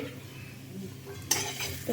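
Fried potatoes with grated coconut stirred in a pan, with quiet scraping and clinking of a utensil that turns louder and brighter partway through, over a low background hum.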